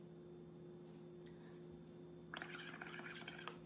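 Bubbles blown through a straw into a paint mixture, a soft close bubbling and gurgling burst that starts about two-thirds of the way in and runs to the end over a steady low hum.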